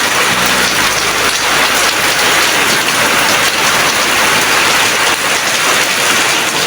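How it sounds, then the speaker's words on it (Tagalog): Heavy typhoon rain pours steadily, a dense, loud wash of drops hammering a surface without pause. "Lakas na ulan, no?"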